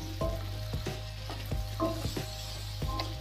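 Carrots stirred in a pan over a medium-low flame, sizzling steadily with a low hum beneath and repeated scraping strokes of a spoon about every half second, close and fairly quiet.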